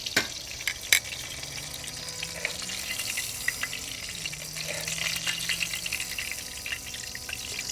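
Thin veal pieces frying in a pan, a moderate continuous sizzle with clinks and bumps as pieces are moved, heard close and without talk.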